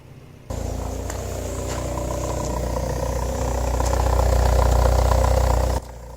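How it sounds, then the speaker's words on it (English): The engine of a Porsche 924 idles with a steady, rumbling exhaust note and some light clatter. It holds close and loud for several seconds, swelling slightly toward the end before cutting away. "I'm going to let you guys have a quick listen to the exhaust for a moment"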